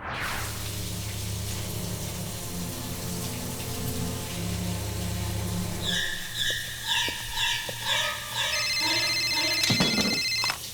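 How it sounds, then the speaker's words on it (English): A phone ringtone chiming in an animated comedy episode, a repeating pattern of bright electronic tones that starts midway through, preceded by a sustained low musical drone. "What a pleasant ringtone."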